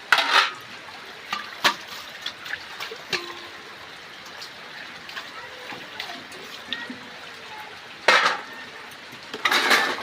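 Dishes and utensils washed outdoors in heavy rain clatter and clink in scattered bursts, loudest at the start and near the end, over a steady hiss of rainfall.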